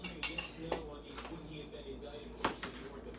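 A utensil stirs ingredients in a pan for cube steak gravy, giving sharp clinks and scrapes against the metal at an irregular pace, with a voice speaking between the knocks.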